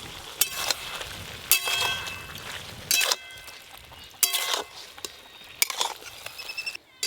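Ridge gourd with green chilies and poppy seed paste cooking in a pan, with repeated sharp clangs and scrapes of a metal spoon stirring against the vessel over a soft background sizzle.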